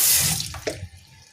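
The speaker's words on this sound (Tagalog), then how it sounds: "Ibabad ko muna ito sa tubig." Tap water runs steadily into a kitchen sink to soak broccoli before cooking, a close, continuous gush that eases slightly toward the end, with a faint clink partway through.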